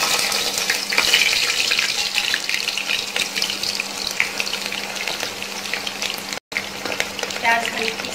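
Onions and bay leaves frying in hot oil for chicken biryani, a loud close sizzle with crackling and occasional stirring clatter, briefly cutting out near the end.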